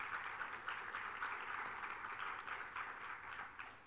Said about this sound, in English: what an applause he got